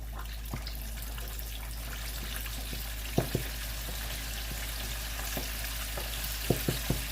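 Chicken pieces deep frying in a pot of oil give a steady low sizzle and bubble, with a few sharp knocks as pieces are lowered in near the start, middle and end.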